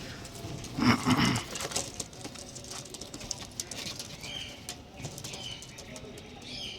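Pigeons of a fancy breed kept for sale, with a burst of wing flapping early on followed by soft intermittent cooing and rustling nearby, while someone talks over them.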